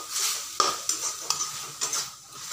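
Taro leaves and prawns sautéing in a pan: a spoon scrapes and taps the pan in several distinct strokes over a steady, soft sizzle, with no talking.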